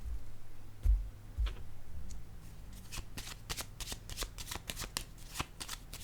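Tarot cards shuffled by hand, with a couple of soft thumps early on, then a dense run of crisp riffling flutters and snaps that grows busier toward the end, close and fairly loud.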